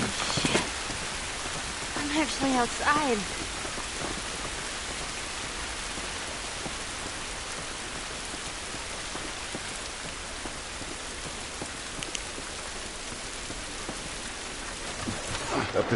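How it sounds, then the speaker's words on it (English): Steady rain falls outdoors in The Last of Us, a constant dense hiss of drops on surfaces throughout, with brief character talk early on over the downpour. "This rain ain't gonna do us any good."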